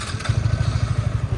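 A Yamaha R15M motorcycle engine turning over and catching, a loud close rapid pulsing idle thump with faint clatter, alone with no talk.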